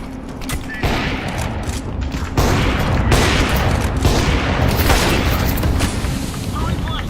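A decoy grenade fakes gunfire in Counter-Strike 2: sustained loud bursts of shots and booming fire roll on continuously, with dense, close, noisy impacts throughout.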